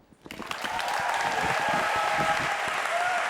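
A festival crowd applauds a band at the Reeperbahn Festival 2023 opening show, the clapping swelling from a few hands into a steady, sustained wash of applause from a large audience, with faint voices mixed in.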